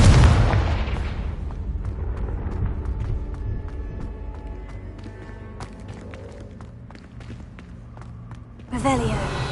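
A loud Confringo blasting spell bursts at the start in Hogwarts Legacy, its rumble fading into ambient game sounds before a second blast cracks near the end.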